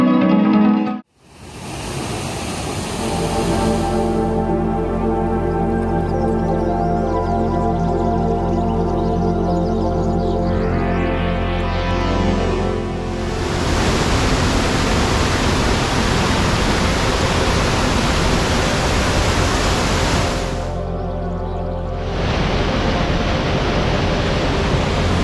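Kumbhe waterfall in the Sahyadri mountains pours with a loud, steady, broadband roar, interrupted by a couple of brief cuts where the sound changes before the rushing water resumes.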